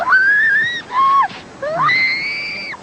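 A girl screams in distress after a snowmobile plunge, giving three loud, high, drawn-out shrieks in quick succession, close and alone.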